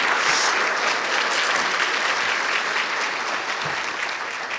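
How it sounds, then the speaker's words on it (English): Steady applause from a crowd at a school fundraising breakfast, sustained clapping at an even level throughout with no voices standing out. "Can we give him a round of applause?"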